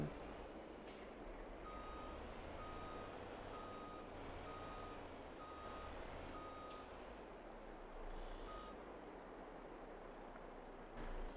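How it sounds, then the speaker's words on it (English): A truck reverses and parks in Farming Simulator 22, its backup alarm beeping at a steady regular pace over a low engine rumble, with hissing bursts of air brakes near the start and end. "we'll park the truck here"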